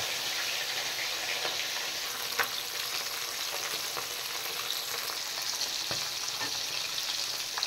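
Tengra fish sizzle and pop steadily in a shallow layer of hot mustard oil, a continuous close crackle with scattered sharper spits and no voices.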